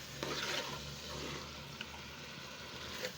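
Meat with carrot, tomato, onion and oil being stirred in a pot, a steady soft scraping and gentle sizzle close by with a few light utensil knocks, no talking.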